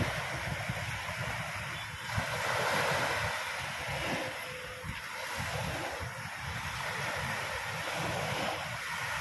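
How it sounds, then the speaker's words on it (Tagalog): Waves break and wash in steadily on a windy Manila Bay shoreline, a continuous roar of surf with surging swells and gusts buffeting the microphone. "Yan po ang hampas ng alon"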